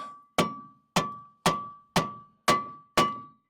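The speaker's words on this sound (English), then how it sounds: "We'll start with a rubber mallet." Six evenly spaced, sharp strikes of a rubber mallet on a seized rear brake rotor of a Toyota RAV4, each a close, dull thunk with a brief metallic ring that decays before the next blow.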